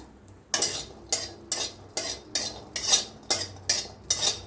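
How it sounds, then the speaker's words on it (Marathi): Garlic is being lightly roasted in a pan, stirred with a utensil in about nine distinct, evenly spaced scraping strokes against the metal, each a short clattering rasp with quiet gaps between. "आता इथं घेतलेलं आहे लसूण, लसूण बी थोडासा हलकासा भाजून घ्यायचा।"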